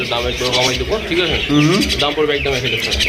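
Pigeons coo and murmur up close, their soft calls mixing with a person talking nearby.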